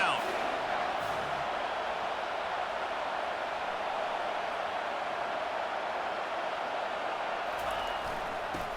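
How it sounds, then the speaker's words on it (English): Steady roar of a stadium crowd in College Football 25 during a third-down defensive stand, a dense, continuous wash of cheering noise that holds level throughout with no clear breaks. "Decibels rising as the crowd gets behind this defense on 3rd down"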